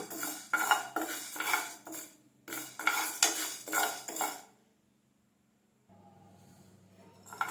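Urad dal roasting in a pan for idli podi, with a spoon repeatedly scraping and clinking against the metal in steady bursts, then a pause and faint low sizzling.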